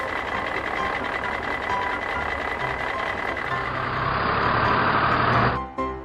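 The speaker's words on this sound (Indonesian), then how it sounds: "di sini ada truk sampah." A garbage truck reverses, its backup alarm beeping steadily and loudly over a running engine; the beeping cuts off near the end.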